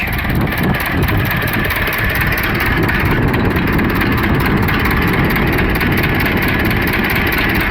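An Ursus C-325 tractor engine, freshly overhauled and being run in, idles steadily and loudly close by, a constant rough, throbbing drone with no speech over it.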